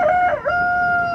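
A heavy rooster of about 3.5 kilos in a backyard coop lets out a single loud, close crow, a sustained tonal call with a brief dip in the middle, heard alone without any talking.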